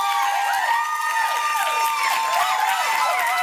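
A studio audience at a dating game show cheers and applauds, a dense wash of clapping with whoops and shrill voices rising and falling throughout, loud and continuous.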